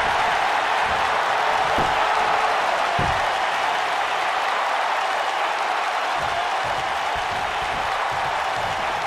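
A large arena crowd in the WWE 2K19 wrestling game roars and applauds in a dense, steady wash of cheering that holds loud and unbroken throughout.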